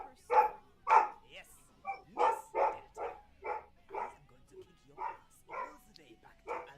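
A dog barks in a steady series of about a dozen sharp, evenly spaced barks, fairly close and clear against a quiet background.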